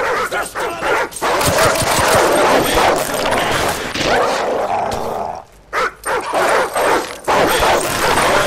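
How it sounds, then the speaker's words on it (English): Dogs in tall grass in the Call of Duty 4: Modern Warfare mission All Ghillied Up, barking, yipping and whimpering loudly and close, in rapid overlapping bursts with brief lulls. "Dogs in the tall grass!"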